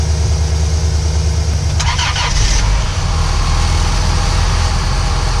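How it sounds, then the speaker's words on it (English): A car with a dead battery, hooked up for a jump start, cranks briefly and catches, then its engine settles into a loud, steady idle nearby. "So now I'm going to go ahead and try to start the vehicle with the dead battery."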